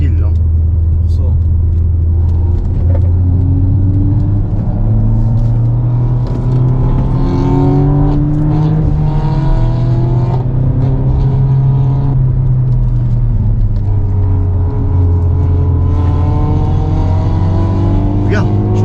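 Car driving on the Nürburgring, engine droning loud and steady from inside the cabin, pitch swelling and easing through gears, with people talking over it throughout.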